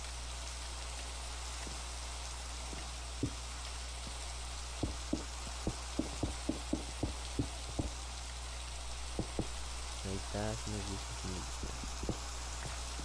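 Rain falling in Minecraft gives a steady hiss of downpour throughout, with scattered sharp clicks and block-placing taps over it and no talking.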